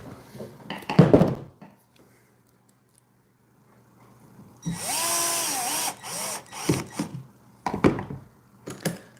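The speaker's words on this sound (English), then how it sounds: "Drill." A power drill whirs in a short burst of about a second, framed by knocks and handling clatter of wood and tools before and after.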